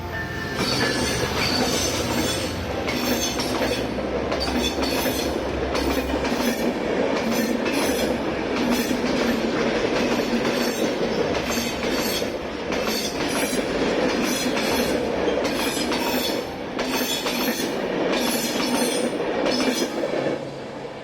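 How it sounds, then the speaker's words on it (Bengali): A train rolls past a railway crossing close by, with loud continuous rumbling, rhythmic clickety-clack of wheels over rail joints and occasional squeals, lasting throughout with no speech. "আর ট্রেনও চলে আসছে।"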